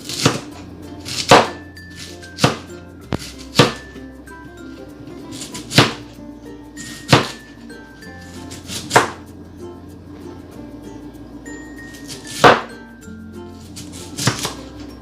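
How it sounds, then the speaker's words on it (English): A knife chops an onion on a cutting board for a black bean salad, with about ten sharp, separate strikes at uneven intervals, close and crisp over a quiet kitchen background. "I'm gonna go ahead and cut up the onion."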